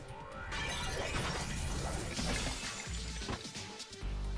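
Crashing, shattering noise used for bones breaking like smashed pots in a Fate/Stay Night visual novel fight, a sustained loud clatter of breaking debris with scattered sharp cracks.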